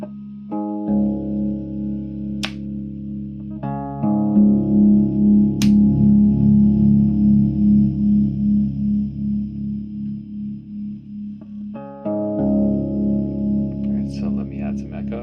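Sustained electric guitar chords ring through a 1960s Victor MA-40 Japanese combo amp with its tone switch set to sharp, loud and bright, struck several times with each chord left to decay.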